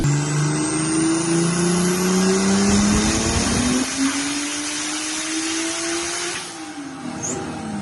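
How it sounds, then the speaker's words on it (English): A 1970 Lada with a 565-horsepower engine running on E85 drones loudly and steadily, its pitch sliding and climbing through revs before easing off near the end, with no voices over it. "The engine runs with E85. It makes 565 horsepower as it sits."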